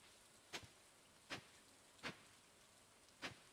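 Rain falling in the Stardew Valley farming game, heard as a soft, steady hiss broken by four sharp, evenly spaced ticks, with no voices.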